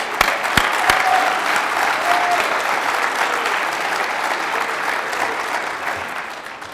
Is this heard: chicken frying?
no